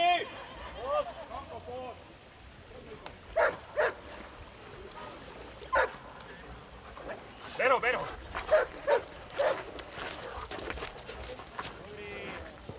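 Dog barks during police dog training at water with a handler, a half-year-old German shepherd among the dogs; several sharp barks come in scattered bursts over background noise, with cattle-like lowing and voices mixed in.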